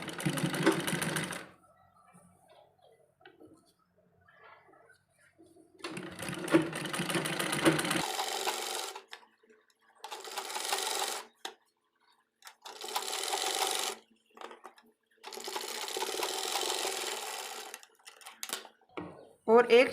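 A sewing machine stitches the neck strip of a baby frock in several loud, steady whirring bursts separated by silent pauses.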